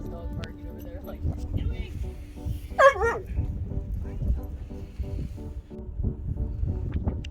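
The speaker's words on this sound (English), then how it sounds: "I heard someone else's dog barking over there," A dog barks a few times off in the distance on a very windy desert evening, faint yips and a whimpering cry coming through steady wind noise and someone talking nearby.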